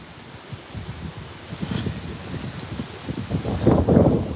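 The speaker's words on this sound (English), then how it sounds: "it's so windy." Strong outdoor wind buffets the microphone in uneven rumbling gusts that build louder toward the end, with no clear talk over it.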